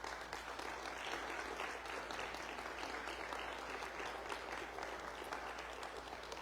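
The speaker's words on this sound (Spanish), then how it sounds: "¿Por qué no es un aplauso fuerte al Señor?" A church congregation applauding together, a faint but sustained wash of clapping from many hands, steady and even with no voices standing out.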